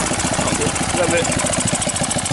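A Honda BF5 outboard motor under repair runs in gear with a rapid, loud, knocking mechanical pulse, steady throughout, while voices talk over it.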